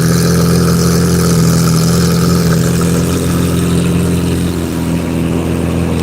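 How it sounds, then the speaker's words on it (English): A Lamborghini Aventador SV engine rumbles loudly and steadily at close range, a deep, throaty idle that holds for several seconds with a slight dip near the end. "this is easily the loudest car I have ever heard in my life"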